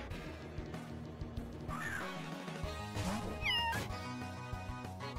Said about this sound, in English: Meow. That was pretty cute